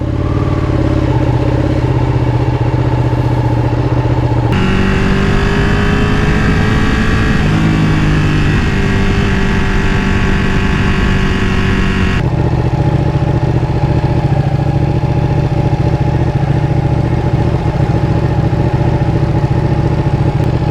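Ducati Panigale 899/959 sport motorcycle ridden at night along uneven streets, engine note loud and close, rising and falling in pitch as the rider accelerates and eases off, with steady mechanical drone between.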